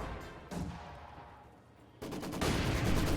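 Mortar rounds striking a house in a military strategy video game, heavy booming blasts followed by a rolling rumble and a second dense barrage of impacts, loud and full, with no voices.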